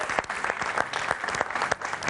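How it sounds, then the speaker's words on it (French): Studio audience at a French television talk show claps hard and continuously, a thick, fast patter of many hands with a few louder individual claps standing out throughout. "on l'applaudit très très fort"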